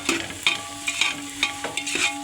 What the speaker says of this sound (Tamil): உப்பு போட்டு நல்லா வதக்கிட்டே இருக்கணும்